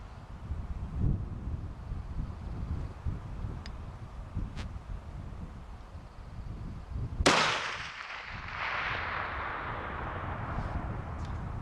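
A single sharp .338 rifle shot fired at a bear on an Idaho spring hunt cracks out loudly after several seconds of faint wind, followed by a long rolling echo that fades slowly.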